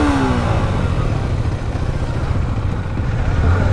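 KTM Duke 390 motorcycle with its stock exhaust, a steady loud single-cylinder engine note close by with slight rises in revs and some mechanical clatter, no talk.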